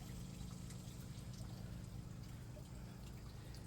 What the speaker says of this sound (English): And then it automatically drains again.